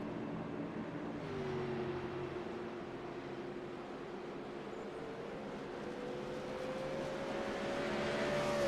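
A race car in a stock-car racing video game drones steadily, engine pitch rising slowly as it runs a lap, loud and continuous with no voices heard.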